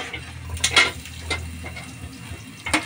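Chopped garlic frying in a pan beside hotdogs, a steady soft sizzle with a few brief scraping stirs of a utensil against the pan, close and moderately quiet.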